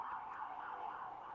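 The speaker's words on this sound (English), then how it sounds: "Excuse the sirens," Emergency vehicle siren wailing outside on a Chicago street, a steady, moderately faint tone that rises and falls slowly with no talk over it.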